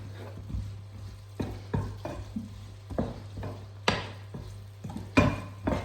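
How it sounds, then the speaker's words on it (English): Caponata of Sicilian vegetables cooking in a pan, with a steady low sizzle under repeated stirring and scraping strokes at an uneven rhythm, close and moderately loud. "Maybe fry it a little bit."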